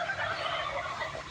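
Turkeys on a farm gobble in a quick, warbling burst that fills the short moment, moderately close and with no voices.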